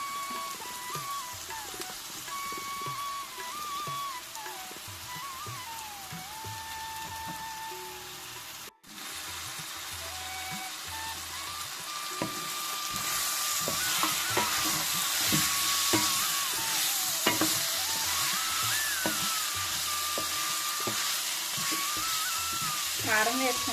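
Chicken pieces and drumstick vegetable fry in ginger garlic paste, a steady sizzling hiss that swells louder partway through, with scattered clinks of stirring and a faint tonal hum underneath.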